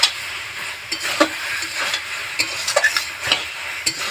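Malabar spinach fruit labra with fish head stirred and sizzling in a pan, with steady frying crackle and several short scraping stirs, close and moderately loud, no talking.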